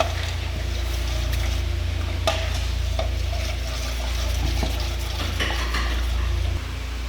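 Maja blanca ingredients are stirred in a casserole pot over medium heat, with continuous scraping and swishing of a spoon against the pot and a low simmering sizzle underneath, close and steady.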